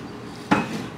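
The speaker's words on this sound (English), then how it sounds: "So let me grab a bowl," A bowl is picked up in a home kitchen while preparing keto low-carb food, one short sharp clack of dish contact mid-way, close and alone against quiet room tone.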